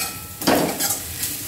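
A spoon stirs chopped green chilli, chilli powder and spices frying in a pan over a low flame, a brief scrape and sizzle bursting up near the middle, then quieter stirring.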